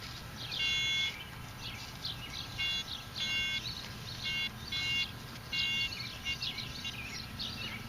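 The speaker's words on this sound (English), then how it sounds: "All that beeping you hear is falsing." Intermittent electronic chirps and warbling beeps from a Minelab CTX3030 metal detector falsing on mixed signals in a park repeat irregularly at moderate volume over a steady background hiss, sounding off in bursts.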